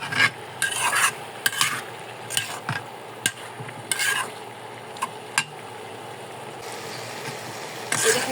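Vegetables sizzle and fry in a pan while a spatula stirs them in repeated scraping strokes, the sautéing close and steady with no talking.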